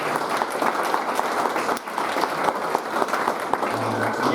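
A crowd applauds steadily at an annual junior cricket association award presentation night, the dense clapping sustained throughout with little letup.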